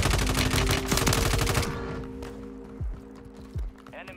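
Rapid automatic gunfire in Call of Duty Warzone 3, a dense loud burst that cuts off, followed by mechanical clicks and a couple of short thuds.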